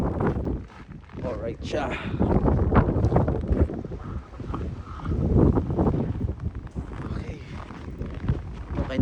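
Very strong wind during a snow blizzard roars and gusts steadily across the whole stretch, buffeting the microphone, while a person talks over it.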